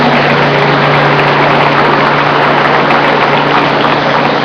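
An Ariens Sno-Thro snow blower engine runs with a loud, steady, close roar and a low drone, continuous and unbroken with no talking.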